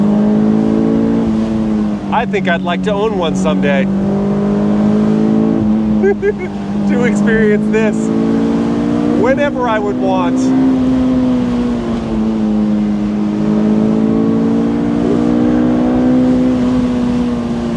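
A 2006 Honda S2000 engine revs high and steady, a strong droning note rising and falling gently under a voice talking from the cabin throughout.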